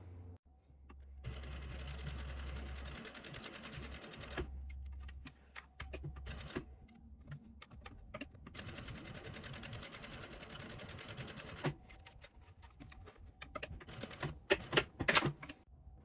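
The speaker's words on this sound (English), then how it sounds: "we are gonna take it to the sewing machine and we are gonna sew a rectangle" A sewing machine sews a rectangle on a fanny pack in steady whirring runs, pausing and restarting, with a few sharper clicks and clatters near the end.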